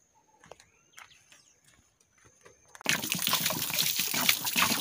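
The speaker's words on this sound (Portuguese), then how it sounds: "Vamos jogar água." Water is poured and splashed across a floor during cleaning. Quiet handling noises come first, then a loud, steady gush and splash takes over and runs to the end.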